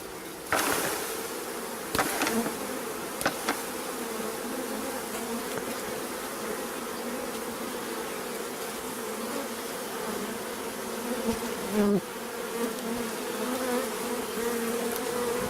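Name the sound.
honeybees buzzing in a bucket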